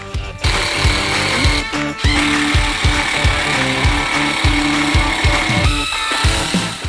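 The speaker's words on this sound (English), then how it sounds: "For fasteners, we're using number 10 3-inch deck screws going straight into the joists." #10 3-inch deck screws are driven straight into the joists of a first-time DIY patio deck, a steady series of loud, rapid rattling power-driver bursts repeating close by for several seconds.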